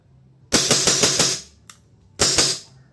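WE G17 pistol fired in a rapid mag dump, a burst of about six close sharp shots, then after a brief gap a single shot and a final quick pair.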